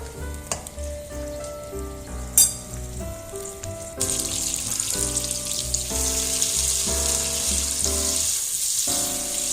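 Butter melts in a pan for lobster mac and cheese, starting quietly with a sharp clink, then rising into a steady sizzle after a few seconds over a low background hum, with no talking.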